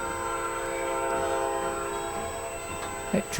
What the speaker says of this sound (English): That train sounds like rain.